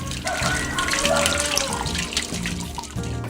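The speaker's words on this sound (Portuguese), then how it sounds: "O simples ato de lavar louça com água farta na torneira é especial" Tap water runs steadily into a kitchen sink while dishes are washed, a continuous broadband splash with faint clinks, and a voice speaks over it throughout.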